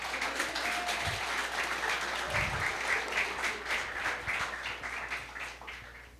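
Applause at a Portuguese-language church service, a room full of people clapping a brother steadily for several seconds, dense and even before fading slightly at the end.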